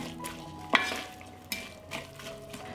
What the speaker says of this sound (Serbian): Propržila sam luk i slaninicu